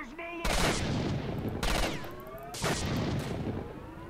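Three rapid bursts of close-range gunfire from a player's weapon in the video game S.T.A.L.K.E.R. Shadow of Chernobyl, loud and sharp, separated by brief gaps with game ambience between them.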